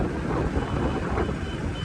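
Steady wind buffeting the microphone at Damodar Kund, Junagadh, a constant broadband rumble with no pauses, close and moderately loud.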